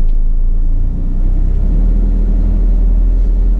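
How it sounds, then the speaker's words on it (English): A drop side truck's engine idles steadily right after start-up, a close, continuous low rumble with no talking. "let's get the engine started up. There we go."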